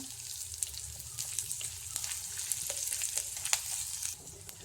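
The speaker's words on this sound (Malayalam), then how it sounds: "നാലഞ്ച് കഷ്ണം ചെറിയ വെളുത്തുള്ളി അരിഞ്ഞതും ഇട്ട് കൊടുക്കാം എന്നിട്ട് ഇതൊന്ന് വഴറ്റി കൊടുക്കാം" Chopped garlic sautéing in a pan for a Kerala kootu curry, a soft steady sizzle with scattered crackles and light stirring scrapes, close and fairly quiet.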